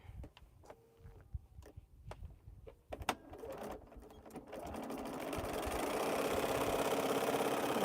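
A sewing machine back stitching through a heavy quilt starts with a few scattered clicks and thumps, then builds into a fast, continuous mechanical whirr and rattle that grows louder toward the end.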